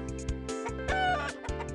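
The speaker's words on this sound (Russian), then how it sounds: "Тут милые птички бегают. Кукарекают." Roosters in the video game Toilet in Wonderland cluck in short, bright calls, several in quick succession, with a tonal backdrop underneath.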